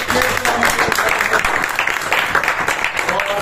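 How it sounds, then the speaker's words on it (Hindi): Sustained audience applause welcoming a guest on stage, steady clapping from a crowd filling the whole stretch at a fairly loud level. "एक बार जोरदार ताली के साथ सुशील जी को"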